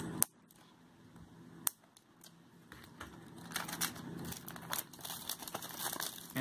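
Plastic wrap on a Blu-ray case being cut open, with a couple of sharp clicks followed by a run of close, soft crinkling and scraping.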